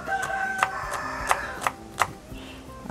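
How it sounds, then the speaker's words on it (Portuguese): A rooster crows in the background outdoors while a knife chops on a board close by, sharp knocks in a quick rhythm near a wood-fired stove. "ainda com o galo cantando no fundo"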